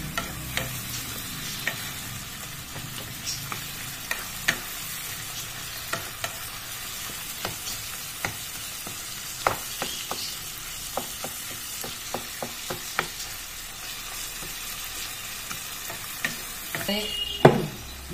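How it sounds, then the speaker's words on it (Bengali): A tomato is pressed and mashed with a metal spatula in a hot pan, soft scraping strokes and sharp clinks against the pan over a steady frying sizzle, with no talk. "টমেটোটা খুন্তির সাহায্যে একটু থেতো করে নিই।"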